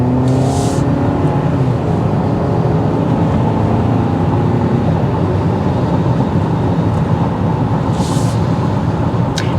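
Cabin of a 2022 Toyota Camry SE accelerating on a test drive: a loud, steady engine drone and road roar that holds throughout with no pause, no voice.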